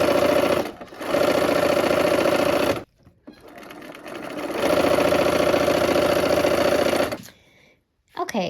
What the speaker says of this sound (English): Let's sew on that line.